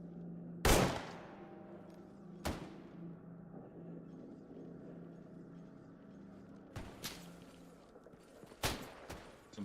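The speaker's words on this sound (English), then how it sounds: "I don't know what they're shooting back there, so I need to be careful." Distant gunfire in S.T.A.L.K.E.R. GAMMA cracks out in scattered sharp reports, a loud shot early, another soon after, then a few more near the end over a low ambient hum.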